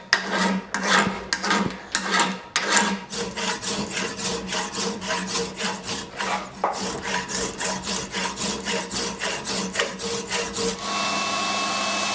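A coarse hand file rasping across an aluminium brake pedal in rhythmic strokes, loud and close, briefly irregular before settling into a steady back-and-forth, ending in a faint steady hum.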